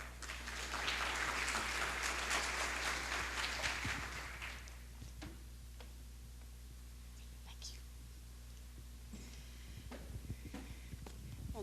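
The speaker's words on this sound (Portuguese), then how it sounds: "Uma salva de palmas." Audience applause welcomes the next speaker at a Twitter Brasil talk on Twitter and TV. The dense clapping runs for about four seconds, then gives way to a quieter room with faint shuffling.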